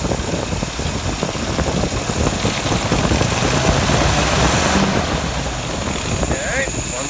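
Car engine running steadily through a stumble test, a continuous near rumble with mild vibration and no clear revving, alone with no talk.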